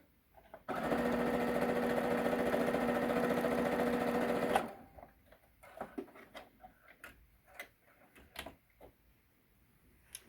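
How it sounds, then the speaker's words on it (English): A sewing machine stitches a quarter-inch quilt seam in one steady, loud run of about four seconds, then stops; soft clicks and handling sounds follow. "make my 1/4 inch seam again"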